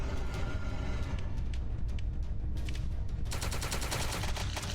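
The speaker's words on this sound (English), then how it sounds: "Apparently I cannot walk while shooting." Rapid game gunfire from Death Road to Canada, a steady dense burst of shots running the whole time, loud and continuous with a sharper, brighter stretch of firing near the end.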